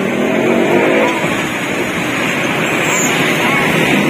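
A large intercity bus pulls away from a passenger terminal at Tanjung Priok, its steady engine rumble and road noise filling the recording close and loud throughout.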